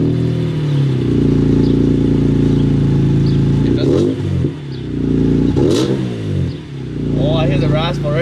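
A BMW E46 M3 fitted with a Rogue Engineering Diablo exhaust and Callus headers idles with a deep steady drone, then revs up sharply twice with raspy swells before settling, heard close and loud.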